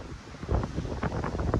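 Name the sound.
wind blowing on the microphone outdoors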